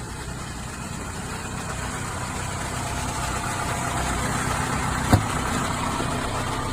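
A 2022 Isuzu NRR box truck idles steadily with a low, even engine drone and no voices, broken by one short sharp click near the end.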